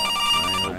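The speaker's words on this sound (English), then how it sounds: "Oh, phone call." A phone rings in the horror game CASE: Animatronics, one steady, loud electronic ring tone sounding alone and briefly before it cuts off.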